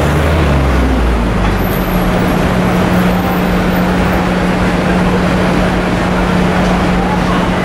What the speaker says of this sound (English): I've definitely found the place where all the buses meet up on a Friday night